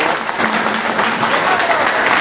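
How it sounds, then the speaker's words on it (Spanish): Audience applause at a conference on the legislative branch in Peru, steady dense clapping from a crowd filling the whole stretch, with faint voices mixed in underneath. "Un fuerte aplauso."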